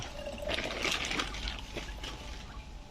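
Water trickles and splashes as it is poured into the priming inlet of a used Japanese Robin portable pump with a 35 cc two-stroke engine, a soft continuous pour heard close and alone.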